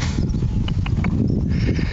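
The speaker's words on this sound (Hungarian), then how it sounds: "Angliai lovak." Horses in England walking nearby, a few distinct hoof clip-clops standing out over steady low outdoor rumble and background noise.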